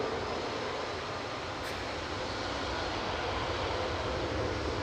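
Airliner departing Manchester Airport, a steady broadband engine roar at moderate distance, continuous and even throughout.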